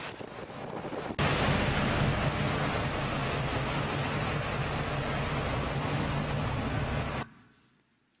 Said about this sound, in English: Let's have a look at the power of water when it flows around this structure